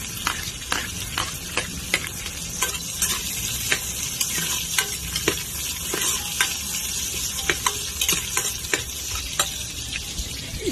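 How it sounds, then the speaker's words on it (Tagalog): Tomatoes fry in a pan for sinigang with a steady sizzle. Regular sharp clicks of a utensil stirring and tapping run through it at a fairly close range, and nobody speaks. "Isunog ko yung kamatis."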